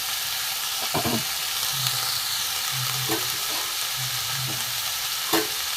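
Vegetables with green chili fry in a pan, a constant close sizzle and hiss with a few distinct scraping stirs and low knocks, and no voices.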